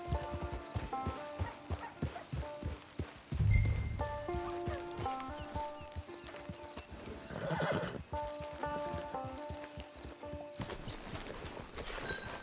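Horse neighing and hooves clip-clopping in Red Dead Redemption 2, with a whinny partway through and steady hoof beats over a layered game soundtrack, fairly loud and close.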